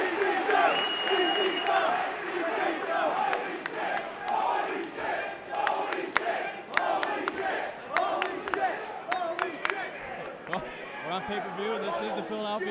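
A Philadelphia wrestling crowd at a House of Honour pay-per-view roars and cheers in waves, with sharp claps and shouts over a dense, reverberant arena din, while a commentator speaks over it.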